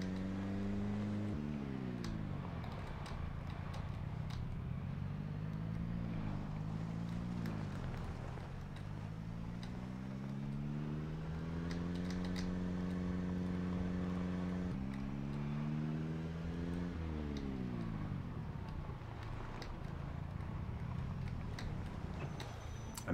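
A worn vehicle engine droning in Project Zomboid, its pitch climbing and dropping repeatedly as the car accelerates and shifts, steady and moderately loud for the whole stretch, with no speech.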